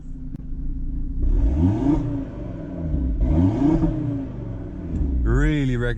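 Five-cylinder engine of a 612 hp MTM-tuned Audi TT RS, loud and close, revving in several rising and falling sweeps with a rumbling idle between, then a sharper rev at the end; a voice talks over it.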